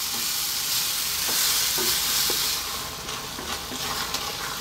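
Tomatoes for a prawn curry frying in a pan, with a steady bright sizzle and a few soft scraping stirs of a spoon, close and continuous with no talk.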